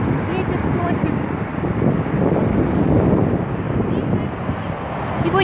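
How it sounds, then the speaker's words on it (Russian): Strong wind buffets the microphone on a street in Saint Petersburg, a continuous loud rumbling roar that swells and dips for several seconds. "Ой, ветер сносит."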